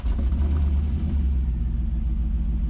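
An LS-swapped Chevrolet S10 engine cranks and catches while still cold, a loud, close, low rumbling churn sustained for nearly three seconds with no voices.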